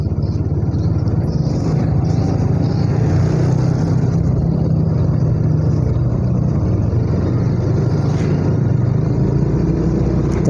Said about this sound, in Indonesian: Dan terkadang ramai kendaraan di sini ya.